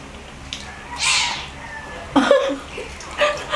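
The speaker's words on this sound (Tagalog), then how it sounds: "Nagmamardera na naman yung mga kuting." Several short, high meows from kittens come one after another at close range, mixed with faint rustling.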